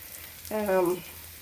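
Onions sauté in a pan for chicken curry with a soft, steady low sizzle, briefly overlaid midway by a short voiced, tonal sound.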